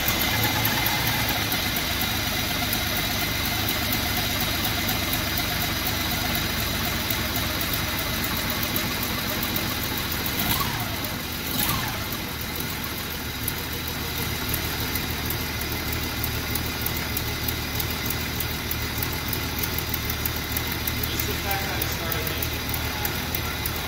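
A Jeep engine runs at a rough, uneven idle with a steady low rumble and vibration throughout. A person talks intermittently over it, and brief clunks or scrapes break in near the middle.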